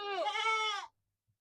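A single goat at a village orange orchard farm in Gulmi, Nepal, gives one close, clear, quavering bleat lasting under a second, followed by near silence.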